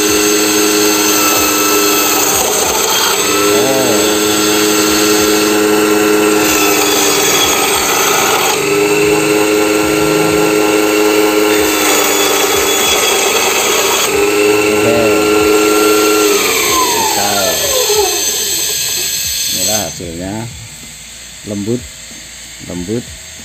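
A Modern M-612 8-inch band saw runs with a steady loud motor whine and cuts through material, its pitch bending during the cut before it winds down; a few knocks and handling noises follow near the end.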